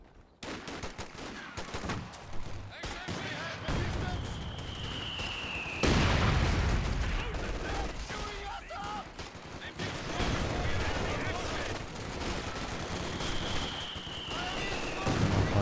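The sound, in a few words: 50 cal machine gun firing in Company of Heroes 2 video game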